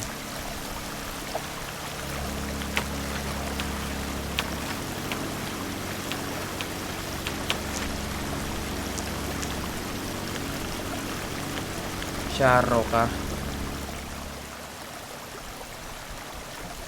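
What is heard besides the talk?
water flowing back and forth at flood control site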